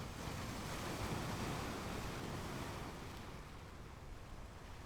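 Ocean waves wash against a shore in a continuous broadband roar, heavy at first and gently easing, with no voices over it, as a sound effect for a mystical summer seaside audio drama.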